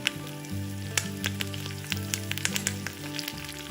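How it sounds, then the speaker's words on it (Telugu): Mustard and cumin seeds crackle and pop sharply in hot oil over a constant sizzle, with quick irregular bursts close by. "1/2 టీ స్పూన్ ఆవాలు, 1/2 టీ స్పూన్ జీలకర్ర వేసి వేగనివ్వాలి."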